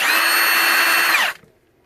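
A Milwaukee M18 Fuel Gen 2 half-inch high-torque impact wrench runs on mode 3 with a loud, high, rattling whine. It stops suddenly after about a second and a quarter, leaving near silence.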